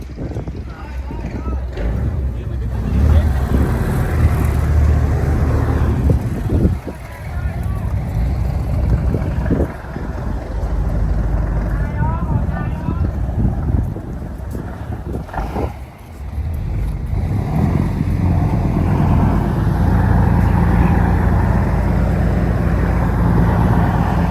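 Private tour boat running on the sea off Phuket, Thailand, with a loud constant engine rumble and wind buffeting, briefly dipping twice, with people talking over it.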